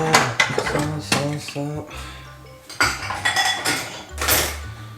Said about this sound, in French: bon lave-vaisselle bien plein hein